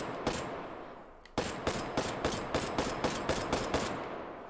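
Gunfire in the VR game Hot Dogs, Horseshoes & Hand Grenades, one loud shot followed after a pause by a fast, steady string of about a dozen close, sharp reports, each with a short ringing tail and no talking.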